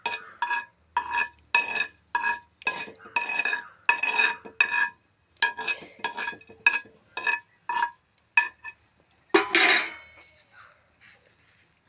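A spoon stirs fenugreek seeds roasting in oil in a metal pan, giving a rapid series of bright metallic scrapes and clinks in a steady rhythm, close up, with a brief louder clatter near the end.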